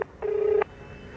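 Telephone keypad tones while a number is dialed: a short clipped beep at the very start, then one steady beep held for about half a second, fairly quiet against a low background hum.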